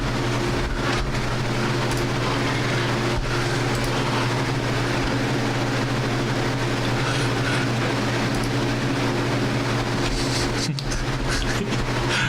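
A train rolls past close by, a steady loud rumble with a low droning hum and rail noise lasting throughout, and no voices.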